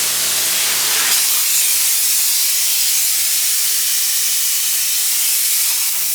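Spray foam insulation hisses loudly and steadily from a hose at close range, a dense continuous spray that holds its level for about six seconds with a brief shift near the start.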